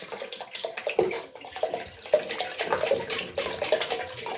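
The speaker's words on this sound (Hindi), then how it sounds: "थोड़ा सा पानी 1 कप के करीब और डाल दें।" Water is poured into a kadhi pakora batter in a steady, close splashing stream that rises and falls in bursts, with no talking.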